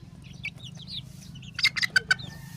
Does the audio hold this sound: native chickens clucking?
yes